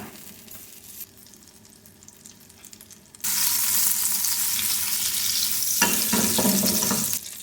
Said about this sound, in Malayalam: ആപ്പിളും ആൽമണ്ടോടെ ഒന്ന് ഫ്രൈ ചെയ്തെടുക്കാം